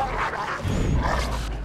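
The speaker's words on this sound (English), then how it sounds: "Dude, the wolves are attacking me." Wolves attacking in Assassin's Creed III give off short yelping, growling canine cries, close and fairly loud against a busy game background.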